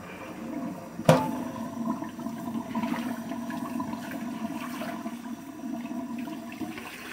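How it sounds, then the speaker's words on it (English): Water drains out of a tub in a steady gurgling rush, with a sharp knock near the start. The drain flow stays continuous and moderately loud throughout, with no voices. "I'm going to let that water out."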